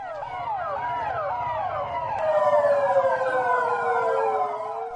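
Delhi police cars sweep past with wailing sirens during a procession around a gurdwara, several overlapping siren tones rising and falling continuously and loud, growing louder midway.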